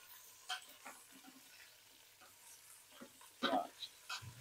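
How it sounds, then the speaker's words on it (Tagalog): Chicken feet adobo stirred in a pan, with soft scraping and sizzling strokes at irregular intervals, faint and close, including a few louder clatters. "Haluin lang natin guys."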